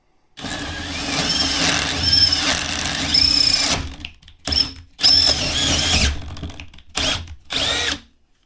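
A power drill whirs loudly in sustained runs, then in several short bursts with brief pauses, its pitch rising and falling as it bites into a composite countertop.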